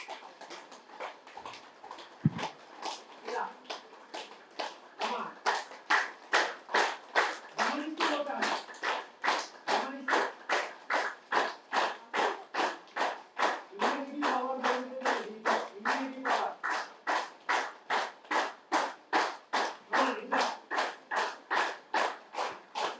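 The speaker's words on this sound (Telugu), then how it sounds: "అలా ఒక్కసారి క్లాప్ చేద్దామా మరి?" A group claps in a steady, even rhythm with fingertips touching, a mindful clapping exercise at a gathering, the claps fast and regular throughout, with a voice speaking over them now and then.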